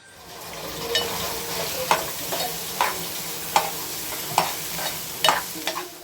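A spoon stirring turmeric and red chili powder into a sizzling taro leaf dish, regular scraping strokes roughly every second over a steady frying hiss, close and clear with no talk.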